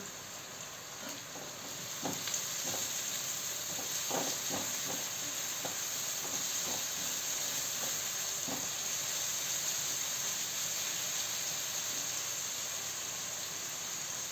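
Onion sizzles and hisses steadily as it fries in a hot pan with a little sugar to caramelize, with occasional soft clicks and scrapes of stirring.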